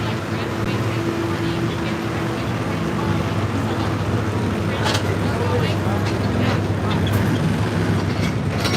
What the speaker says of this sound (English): The engine is purring